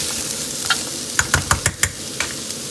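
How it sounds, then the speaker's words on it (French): Onions frying in oil in a pan over lowered heat, a steady soft sizzle under a burst of several quick scraping stirs near the middle, with a few lighter knocks of the utensil before and after. "je laisse mes oignons cuire gentiment dans cette"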